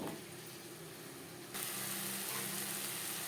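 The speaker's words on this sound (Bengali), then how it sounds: "মশলার সব উপকরণ দিয়ে পেঁয়াজ টমেটো বেশ ভালো করে কষিয়ে নেব।" Onion and tomato sauté with spices including red chili powder in a pan for a fish curry, giving a steady soft sizzle that swells louder and hissier partway through.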